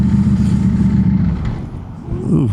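Ducati Streetfighter V4 motorcycle with an aftermarket exhaust, its engine idling loud and close, then a rising rev near the end, with a brief exclamation from a voice.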